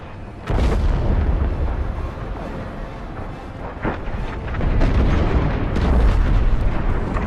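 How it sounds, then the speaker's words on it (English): A frigate blows apart in Star Wars: Squadrons, with a sudden loud boom followed by rolling, crackling blasts and secondary explosions that rumble on and swell again near the end, close and heavy, with no talk over it. "The frigate is about to explode!"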